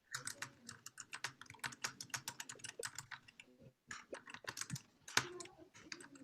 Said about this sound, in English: I'm hearing typing.